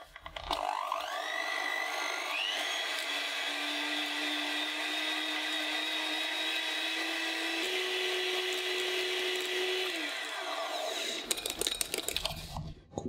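Electric hand mixer whipping softened butter and sugar for a chocolate pound cake, a steady high whirring motor running about ten seconds with a slight speed shift, then stopping with some rattling clatter, no talk.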